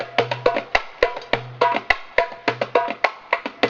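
Hand strikes on a tumbuk drum from a marawis ensemble, a series of sharp resonant hits in an uneven rhythm with deep booming strokes mixed among crisp slaps, close and alone.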